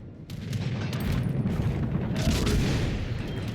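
Airstrikes explode in the naval battle game World of Warships Legends, a rolling rumble of booms and crackling blasts that swells and stays loud for several seconds, with no voices over it.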